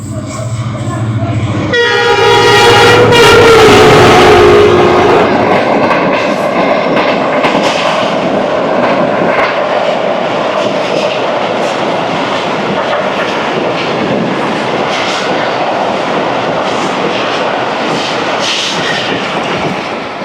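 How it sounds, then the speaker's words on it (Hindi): The Pak Business Express passenger train passes Jhimpir station at slow speed, opening with a loud horn blast and then a long, close, continuous roar of wheels and carriages rumbling by. "34 डाउन पार्क बिजनेस एक्सप्रेस ने जमपीर को क्रॉस किया।"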